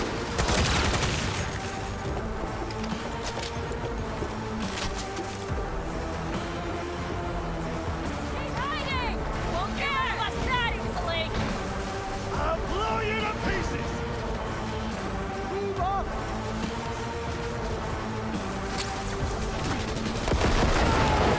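Sustained gunfire fills a chaotic firefight in Cyberpunk 2077, dense rapid bursts layered over a loud, rumbling action-game mix, with voices calling out amid the shooting.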